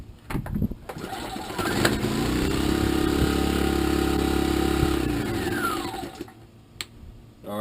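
Sportsman inverter generator on a table, started with a pull and running for several seconds as a steady buzzing drone that winds down. Handling knocks come before and after.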